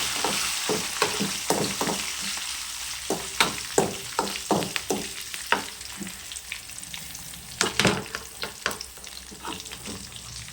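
Tempering spices crackle and sizzle in hot oil, with irregular sharp pops and spatters over a constant hiss, close and fairly loud.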